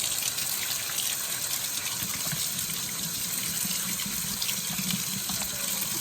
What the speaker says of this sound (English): So we rinse the jackfruit off